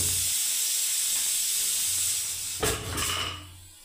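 A lit gas stove burner hisses steadily and close by during cooking, a continuous broadband rush with a brief clatter near the end before it fades slightly.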